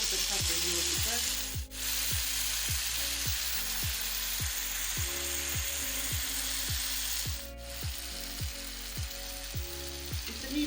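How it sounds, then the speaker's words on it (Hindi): Chicken pieces frying on a tawa give a steady, close sizzle throughout, broken by a repeating rhythmic scraping or clicking pattern, likely from stirring or turning. "माशाल्लाह बहुत अच्छा फ्राई हो चुका है।"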